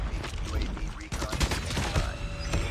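A sentry gun fires in a first-person shooter video game, with rapid continuous gunfire bursts and mechanical clatter that stay loud and close from start to finish.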